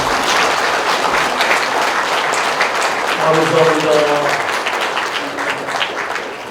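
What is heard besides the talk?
audience applause of thanks at book launch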